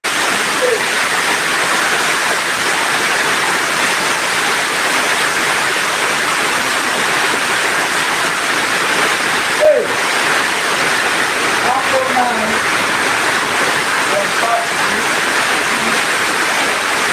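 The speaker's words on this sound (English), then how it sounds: "The rain is small, show." Steady rain falls without a break, a dense, even hiss that stays constant and fairly loud, with a few faint thumps and small sounds scattered through it.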